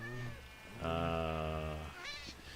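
A cat in Minecraft meows in a drawn-out, wavering cry, alone and fairly close, followed by a shorter rising mew near the end.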